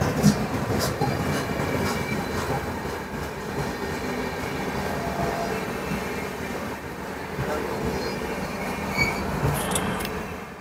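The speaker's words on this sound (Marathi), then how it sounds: "तर ही आता समोरून जाते ट्रेन, ती तिरुवनंतपुरम हजरत निजामुद्दीन आहे." The Thiruvananthapuram–Hazrat Nizamuddin express passes close by at a crossing station, a steady loud rumble of wagons and wheels with faint squeals and clicks running throughout.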